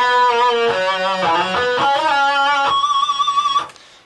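Electric guitar lead line through an Axe-Fx II USA Lead preset with a drive pedal adding gain, sustained distorted notes played close and loud, ending in a quick tremolo flurry.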